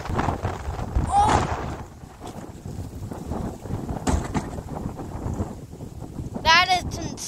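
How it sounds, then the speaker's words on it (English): Strong wind gusts buffet the microphone outdoors, a loud continuous roar that rises and falls with the gusts while a person talks over it. "It's blowing crazy out here."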